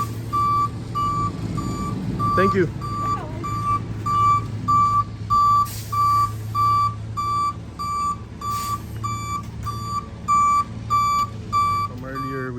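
A tow truck reverses with loud, evenly spaced beeping over its rumbling engine, a brief spoken remark partway through.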